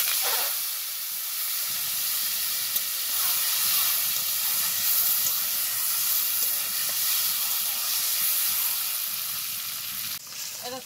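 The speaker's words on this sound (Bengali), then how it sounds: "দেখো ডিমগুলো খুব ভালোভাবে ভেজে নিলাম," Salt-and-turmeric-coated eggs fry in hot oil in a kadai, giving a steady, bright sizzle and hiss throughout, fairly close, with occasional faint clinks and no talk.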